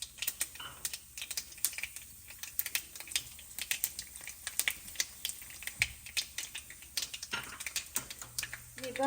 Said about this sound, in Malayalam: ഇപ്പം അതാ കടുക് പൊട്ടി കഴിഞ്ഞു.